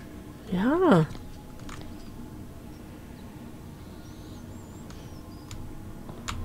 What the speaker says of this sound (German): Ja, tritt auf die Katze.